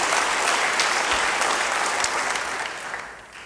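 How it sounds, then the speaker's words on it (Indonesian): A church congregation applauds during a sermon, a dense, steady wash of clapping hands that holds loud and then fades slightly toward the end. "Yang percaya, beri tepuk tangan bagi Dia."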